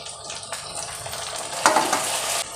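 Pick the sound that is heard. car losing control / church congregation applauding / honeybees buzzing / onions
onions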